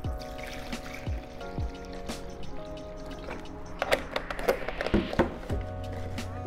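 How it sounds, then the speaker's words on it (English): Nutrient water poured into a plant container filled with LECA clay pebbles: soft trickling and dribbling with scattered light clinks and knocks, fairly close and intermittent. "So I filled it up to about here with the nutrient water."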